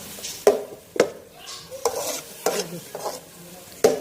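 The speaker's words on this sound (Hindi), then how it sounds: "अब मैं डाल रही हूँ इसमें गाजर। हमने इसे अच्छे तरीके से भूनना है" Grated carrots are dry-roasted in a hot pan without oil or butter, with sharp spatula scrapes and knocks every half second or so over a soft sizzle, close and moderately loud.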